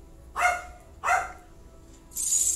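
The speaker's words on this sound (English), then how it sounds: "Still barking." A dog gives two sharp, fairly close barks about half a second apart, followed by a brief hissy burst of noise.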